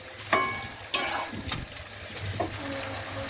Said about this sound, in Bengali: এবার আমি একটু হালকা করে নেড়ে নিচ্ছি